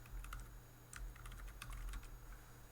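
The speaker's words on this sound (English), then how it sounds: "let me just finish typing this out." Fingers typing on a computer keyboard give a quiet run of quick, uneven keystroke clicks over a low steady room hum, with no one speaking.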